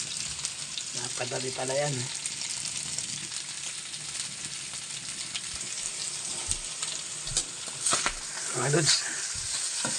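Shredded chicken pastil frying in a pan, a continuous crackling sizzle close by, with someone briefly talking over it at a couple of points.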